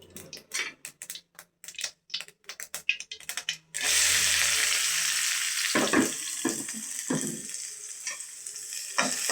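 Onion and curry leaves dropped into hot oil burst into a loud, dense sizzle that carries on steadily, with a few stirring scrapes, after a stretch of tapping and clattering before the ingredients go in.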